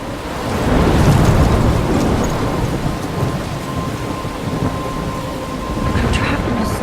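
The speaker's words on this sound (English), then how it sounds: "I'm trapped in a storm?" Thunderstorm in the video game Life is Strange: a heavy rumble of thunder over steady rain, loud and continuous, with no talking.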